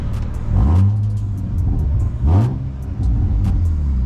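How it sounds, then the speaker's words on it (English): A BMW E36 328i with a single exit exhaust revs up twice at a gas station, each rise swelling into a deep exhaust roar before settling back to a low, rumbling idle. "Just give it a couple revs"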